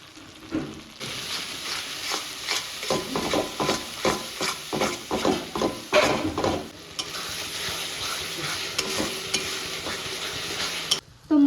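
A spoon scrapes and stirs a spice paste frying in a pan for mutton curry, with a steady sizzle underneath. About a dozen rhythmic strokes come close and loud, then the sound settles into a calmer sizzle with no talking.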